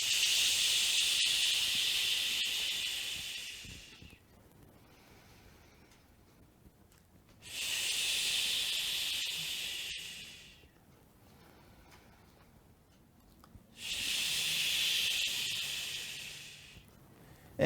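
Three long hissing exhales of the qigong liver healing sound, each lasting about four seconds, separated by quiet pauses for inhaling; close, steady breath noise with no talking.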